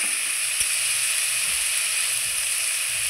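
Ginger garlic paste fries in hot oil with a steady, close sizzle and hiss that holds evenly throughout, with no talking.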